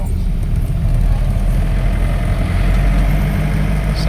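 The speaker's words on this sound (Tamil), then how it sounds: "சந்தன காடுகள் வழியாக எங்கள் வண்டி போய்கொண்டு இருக்கிறது." A car travels through sandalwood forest on the road from Marayoor toward Munnar, its engine a steady low rumble with continuous road and wind noise throughout, fairly loud and close, with no talk.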